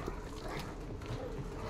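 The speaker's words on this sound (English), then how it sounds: "No, go away, dogs." Dogs barking in a video game, short yelping barks faint and scattered under a dense wash of game background noise, with no talk.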